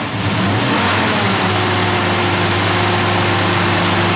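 Up close, a 1973 Plymouth Road Runner's pump-gas engine with a mild cam idles loud and steady, its note lifting briefly in a light rev before settling back into a constant rumble.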